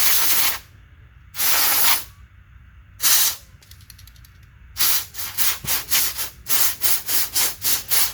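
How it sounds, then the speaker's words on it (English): WD-40 contact cleaner sprays onto a BMW Z3 blower motor resistor in loud hissing bursts: three longer blasts with pauses, then a rapid series of short, evenly spaced squirts close to the microphone. "I'm just going to basically go ahead and hit this with the WD-40 contact cleaner. I'm just going to hose the whole thing down."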